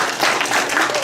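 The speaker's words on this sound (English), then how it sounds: "Round of applause for Marina." Brief applause from a congregation at an in-person Sunday service, a steady patter of many hands clapping close by for about a second.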